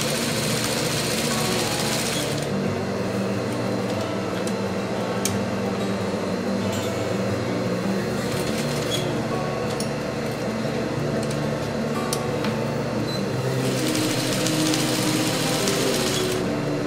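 A sewing machine quilting straight lines on a scrappy quilt-as-you-go potholder, its steady motor hum and rapid needle chatter running loud and continuous, with short pauses in pitch near the start and end.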